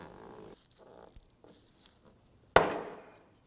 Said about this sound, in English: Just using our trim tool here to get that out